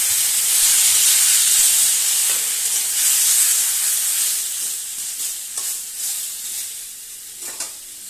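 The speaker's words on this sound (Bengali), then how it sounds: "একটু গরম জল দিয়ে মশলাটা ভালো করে কষিয়ে নেব" Spice paste being fried for a prawn and elephant foot yam curry sizzles and steams loudly after hot water is poured in, a bright continuous hiss that eases and grows uneven, with brief stirring scrapes.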